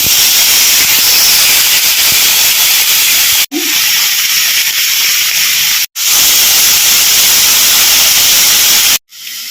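Onion, ginger and garlic paste hisses and sizzles loudly in hot oil in a home kitchen, a continuous bright frying noise broken by a few brief silent cuts.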